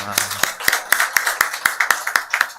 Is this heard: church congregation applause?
yes